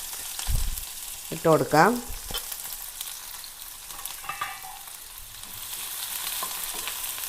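Onion, garlic and green chili sizzling in a hot pan, a steady frying hiss throughout, with a brief spoken phrase and a clatter near the start.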